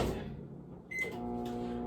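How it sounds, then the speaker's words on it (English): A microwave oven hums steadily while melting chocolate, after a soft click and a short beep, the low electric drone continuing close by. "I'm gonna put them in the microwave and melt it."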